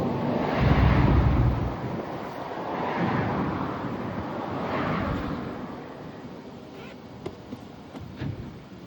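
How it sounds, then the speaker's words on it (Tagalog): Wind gusts blowing outdoors, a steady broadband rush that swells and fades in waves, loud and close with a roughness like wind buffeting the microphone, with a few faint clicks near the end and no talking. "Parang hangin dito."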